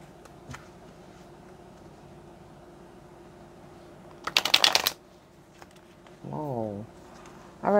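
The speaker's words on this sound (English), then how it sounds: "I can shuffle. But with this deck, this is a new deck." A new deck of cards is riffled once in a quick, crisp burst, close by, amid quiet room noise and a short vocal sound afterward.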